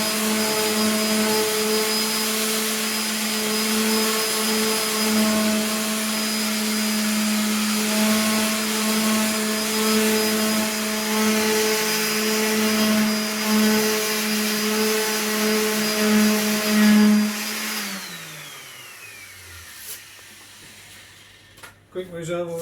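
Power sanding an edge with 240 then 320 grit abrasive: a loud, steady whining drone with a strong hum, close up and continuous, before the machine winds down and stops near the end, leaving faint clicks.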